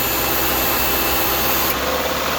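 A Subaru engine running steadily at 2,000 RPM during an air conditioning recharge, a continuous close broadband hum and hiss with no talking.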